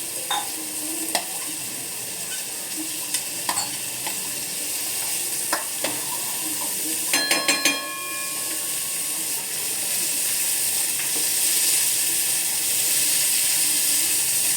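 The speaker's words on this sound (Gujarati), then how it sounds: "ડુંગળીને ધીમા ગેસે સતળાવા દઈશું।" Finely chopped onions sauté over a low flame in a paneer gotaro dish, giving a steady close sizzle with occasional sharp spoon taps and scrapes against the pan, and no talking.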